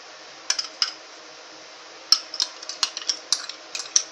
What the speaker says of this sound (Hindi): अब आपने जो है दही इसमें आराम आराम से मिक्स कर लेना है